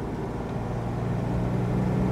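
A 1953 Mercedes 220 Cabriolet B engine pulls steadily uphill in second gear after a downshift from third, its low, even drone continuous and fairly close throughout.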